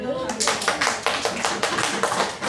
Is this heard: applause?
yes